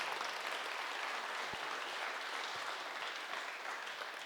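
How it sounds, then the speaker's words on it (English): An audience gives Skye Nicolson a full round of applause, a sustained crowd clapping that holds steady and close throughout, with no talking on top. "let's hear a big round of applause for Skye Nicolson, everyone"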